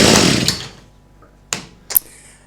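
A cheap two-stroke gasoline hedge trimmer with a fuel problem roars briefly up close and dies away, followed by two short sputtering bursts as it tries to catch again.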